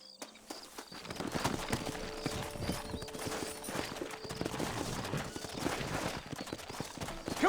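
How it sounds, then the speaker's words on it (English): Horse hooves clatter in the Western video game Red Dead Redemption, rapid galloping beats at close range under game ambience and music, starting after a quiet opening moment. "Horses are over here!"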